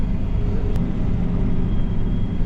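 A 2022 model 5.90 combine harvester runs at steady close range during harvest, its engine giving a loud continuous low rumble with no break.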